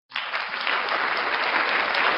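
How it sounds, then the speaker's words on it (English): A burst of steady applause from a soundboard effect, many hands clapping in a dense, even wash that starts abruptly and holds at a constant level. "See, I want applause"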